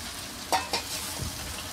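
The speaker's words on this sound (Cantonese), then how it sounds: "咁我落翻少少生粉水落去，收一收隻蟹。" Crab stir-frying in a wok as cornstarch slurry thickens the sauce, a soft steady sizzle with two quick scraping stirs of the spatula near the middle, close and fairly quiet.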